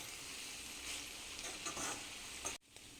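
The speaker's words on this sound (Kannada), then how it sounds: "ತಿರುಗಿಸ್ತಾ ಇರಬೇಕು." Bitter gourd gojju cooking in a pan, a faint, steady sizzle with soft stirring scrapes, ending in a sharp clack and a brief drop to near silence.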